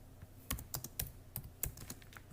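Irregular clatter of keys struck on a computer keyboard, close and fairly faint, with a handful of sharper taps standing out from lighter clicks.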